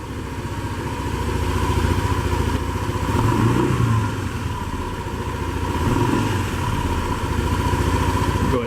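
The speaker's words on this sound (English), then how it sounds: "Walk around here and give it a couple revs." A 2013 Honda PCX150 scooter engine revs up and settles back several times, a steady close idle swelling into a few rising blips of throttle with no talking.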